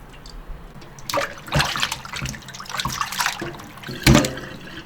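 Pork hock skin being washed under running water, splashing and trickling with irregular bursts as the meat is handled, close and moderately loud, with no talk.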